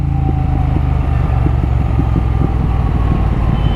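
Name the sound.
motorcycle exhaust revving and closing throttle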